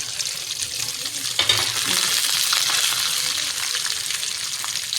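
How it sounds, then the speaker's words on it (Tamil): Crushed garlic and ginger drop into hot oil in a home kitchen, setting off a sudden bright crackling sizzle that continues steadily at close range, with light stirring sounds and no talk. "பூண்டு இஞ்சும் தட்டி வச்சுருக்கிறேன் அதை போட்டுக்கலாம்"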